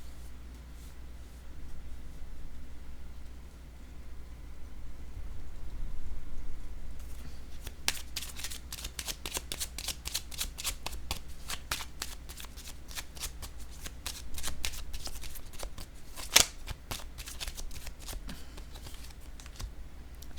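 Tarot cards are shuffled in a quiet room, with rapid, soft, papery riffles and flicks repeating for several seconds after a near-silent start.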